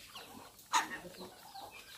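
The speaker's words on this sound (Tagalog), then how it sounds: "Yung mga itik, manok, dito po sila ng alaga dito" A single short cluck from a chicken rises briefly over a quiet, faintly noisy farmyard background where ducks and chickens are kept, in Villaba, Leyte.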